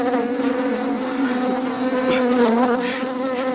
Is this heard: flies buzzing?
yes